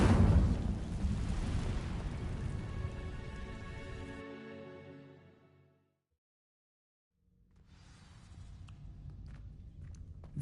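Dry vines set alight by the Incendio spell in Hogwarts Legacy crackle and roar loudly at first, then fade into a brief silence before faint crackling and pops return.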